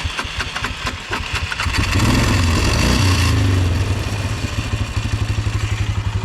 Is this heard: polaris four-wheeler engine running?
yes